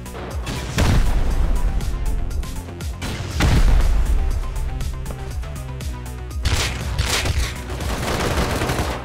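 Turret gunfire in a shooter video game, heavy bursts of automatic fire and explosive booms rolling through loud and continuous, with dense repeated shots peaking in several waves and no talk over it.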